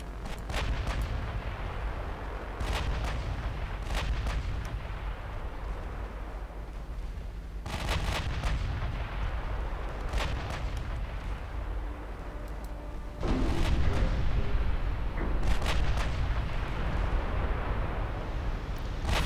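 Five-inch naval guns firing repeatedly in the video game Ultimate Admiral Dreadnoughts, with a continuous rumble of gunfire and heavy booming reports, growing louder in the final stretch.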